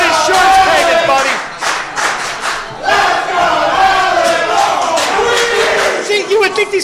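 A large arena crowd boos in sustained loud waves, voices massed and droning, rising and falling with brief dips, close and filling the space.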